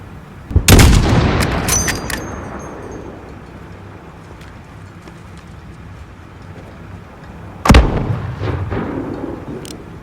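Mortar artillery fire in the video game Call of Duty Modern Warfare: two heavy booms several seconds apart, each a sharp loud blast trailing into a long rumbling decay, with no voices.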